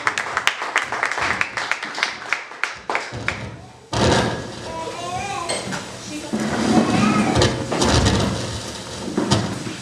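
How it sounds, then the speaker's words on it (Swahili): Applause breaks out in a church service as someone comes forward for announcements, a burst of clapping after a short opening stretch of talk, with voices continuing over the noise. "Tumpigie makofi anapokuja."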